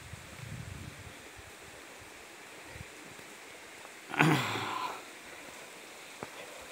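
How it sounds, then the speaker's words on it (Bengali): A mountain stream flows near Upper Chaitipan village in Kurseong, a faint, steady rushing wash heard from a distance, with a brief louder tonal sound cutting in partway through. "নিচে এখানে আবার আরেকটা ঝোড়ার আওয়াজ পাওয়া যাচ্ছে।"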